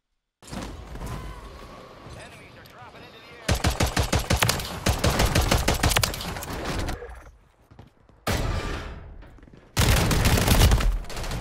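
Bursts of rapid automatic fire from a Striker 9 SMG in Warzone, loud and close, coming in several sharp volleys separated by short pauses and quieter gameplay noise.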